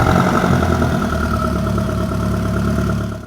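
A turbocharged 1.8 litre Audi TT engine fitted in a Caddy show car fires up and settles into a loud, steady idle close by, with a rough low rumble throughout and a slight fade at the very end.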